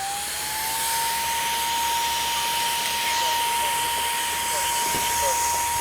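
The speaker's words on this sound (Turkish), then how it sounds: "Bu süpürgeyi de takıyorum" Portable car vacuum cleaner fitted with a brush attachment running inside a car, a steady close motor whine with airy suction noise and faint brushing scuffs.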